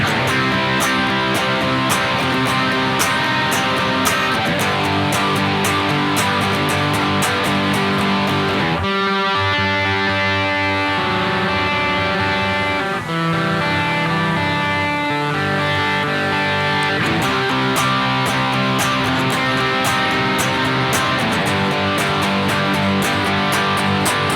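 Loud, continuous distorted electric guitar chords, strummed punk-rock style in a steady rhythm, with a brief thinner passage of single notes midway before the heavy chords return.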